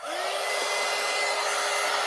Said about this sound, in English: I don't know that if I'm damaging this in any way by using my heat gun